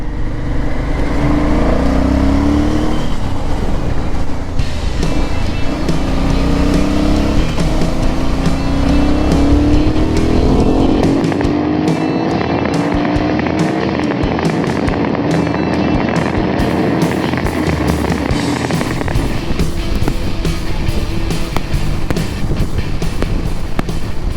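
Aprilia Shiver 900 motorcycle engine pulling hard under acceleration while being ridden, a loud continuous drone that climbs in pitch through the gears with steady wind rush throughout.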